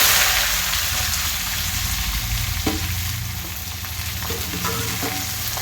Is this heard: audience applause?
no